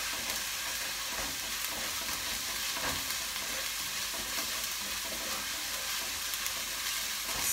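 Ginger garlic paste and onion sauté in a pan for a Kerala fish curry, giving a steady, close sizzle with stirring scrapes throughout and no talking.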